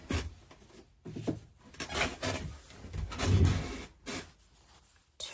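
A paper ruler strip in dark teal being trimmed to length for a garden journal, heard as close, soft scraping and rustling strokes in uneven bursts, with brief quiet gaps between them.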